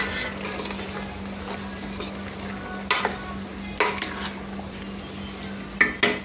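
A ladle stirs chicken curry with tomatoes in a pot, giving scattered scraping knocks and clinks against the metal over a faint steady sizzle, close and moderately quiet.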